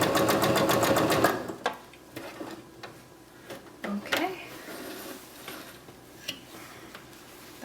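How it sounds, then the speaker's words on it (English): A sewing machine stitching and back stitching at the edge of a quilt during free motion quilting, a fast rattling run of needle strokes at the start, then scattered clicks and handling sounds as it stops, with a voice talking. "get all the way over to the edge and then back stitch in the same, like stitch around in the same spot to secure your end"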